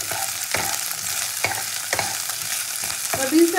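Green beans fry in a pan for masala rice, a continuous close sizzle broken by a series of sharp scraping stirs at roughly half-second to one-second intervals, with no voices.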